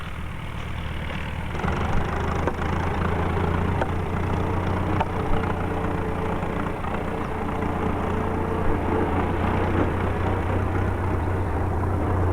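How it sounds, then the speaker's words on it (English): A tractor engine runs steadily at a low, even idle, its deep throbbing drone holding constant and fairly close for the whole stretch, with faint clanks and rattles on top and no voices. "That must be the tractor, son."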